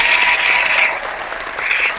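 A short burst of clapping from a small group during a live reading discussion, steady and fairly loud, lasting about two seconds with no voices over it.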